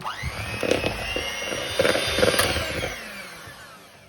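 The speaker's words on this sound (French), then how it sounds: "on va commencer par monter donc notre frangipane avec notre fouet électrique" An electric hand whisk whips frangipane cream for a galette des rois, giving a steady close motor whir with rattling clatter from the beaters against the bowl. It fades slightly toward the end.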